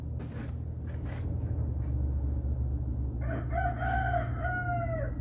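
A rooster crows a single drawn-out cock-a-doodle-doo over a steady low hum, fairly close and clear, coming in after a quiet stretch of faint background noise.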